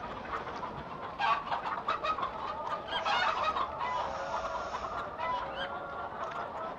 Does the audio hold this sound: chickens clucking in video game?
yes